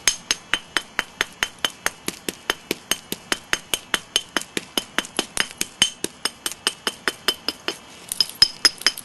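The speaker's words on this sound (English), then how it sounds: "we'll do freehand percussion where I'm holding it out between my legs" Rapid, evenly spaced sharp clicks ring out close by, dozens of hard strikes in a steady rhythm as a stone blade is shaped by freehand percussion flintknapping, held between the legs.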